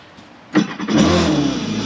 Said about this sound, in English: We're gonna start our engine up.